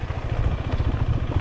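Motorcycle engine running close by with a steady throbbing low rumble and even pulsing, brief and continuous without speech, heading downhill toward the backwater.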